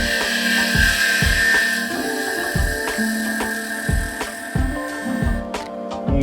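A lathe turns an Osage orange wood and resin pen blank on an unsupported mandrel under light cuts, giving a steady motor hum overlaid with rhythmic chattering, ratchet-like tool bursts close up.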